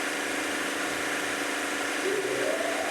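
A vehicle engine drones steadily while being ridden in the video game Free Fire, a loud continuous hum that holds without a break and swells slightly toward the end.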